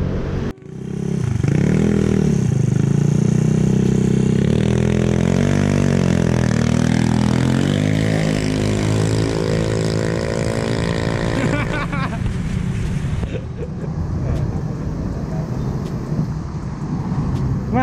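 A Honda Genio car with a B20 engine runs close by, a steady loud drone that climbs in pitch and then settles, with a person speaking at times over the engine.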